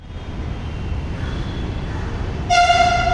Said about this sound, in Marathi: तर हे आहे पुण्याची मेट्रो